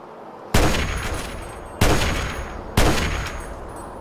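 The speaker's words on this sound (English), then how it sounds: "But rifle shots do more than fine." Rifle shots in Fallout 3, three loud close gunshots with long ringing decays, spaced irregularly over a few seconds, with no talking.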